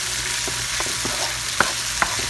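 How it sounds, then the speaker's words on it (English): Minced garlic, a single clove, sizzles steadily in a pan in a home kitchen, a constant frying hiss with a few soft spoon-stirring taps and two sharper clinks near the end. "I'm going to add a spoonful of the minced garlic. Just 1 garlic clove. And let that cook for about a minute."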